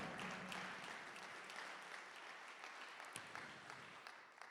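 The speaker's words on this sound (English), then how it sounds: "So let's give them a big round of applause." Faint, distant applause from the audience at a charity fundraising gala ripples steadily, a soft continuous patter of many hands that stays quiet and even throughout.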